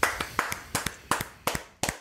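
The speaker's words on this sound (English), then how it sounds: "Round of applause for" Sparse, regular hand claps in an American-Algerian relationship discussion: about six sharp strikes, each followed by a quick softer one, spaced roughly a third of a second apart, moderately close and clear with no voices over them.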